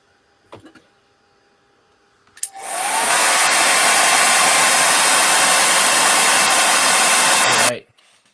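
Hair dryer used to dry flowers, switching on after a couple of small clicks and roaring loud and steady for about five seconds before cutting off abruptly.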